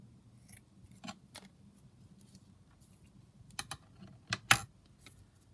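Scissors snipping paper for a junk journal craft, a few sparse, quiet, crisp cuts and clicks close by, with the last snips louder.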